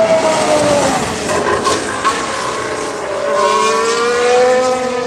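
A 2019 Mercedes W10 Formula 1 car drives past on a cold track, its high-pitched engine whine rising and falling in pitch as it approaches and passes, loud and unbroken, with no speech over it.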